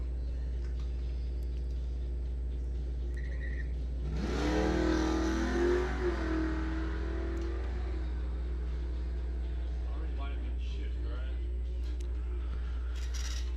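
At a bracket-racing dragway, a Mustang and a Trans Am launch together with a loud rising engine roar that peaks and then fades into the distance, with an announcer talking over a steady background hum.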